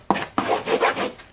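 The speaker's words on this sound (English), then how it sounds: "I'll just rub this down on the side" A wooden stacking box gets rubbed down along its side, producing two quick, dry abrasive strokes up close, each beginning with a sharp scrape and then smoothing out.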